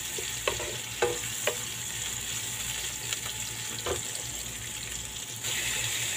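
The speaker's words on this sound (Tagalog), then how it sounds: "Saka mekos-mekos ng ating sibuyas." Onions sautéing in a pan for adobong sitaw: a steady close sizzle with a few sharp clicks as they are stirred, and the frying grows slightly louder toward the end.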